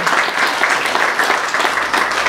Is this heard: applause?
yes